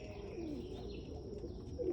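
Pigeons in a loft give low, soft cooing calls over a steady background hum, with a louder coo near the end.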